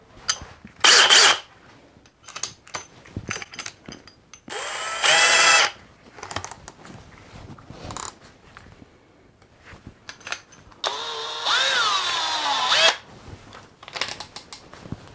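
Hercules 20V brushless hammer drill driving an 11/16 spade bit, heard in several loud whirring bursts of varying length, the longest near the end, separated by quieter gaps with handling noise.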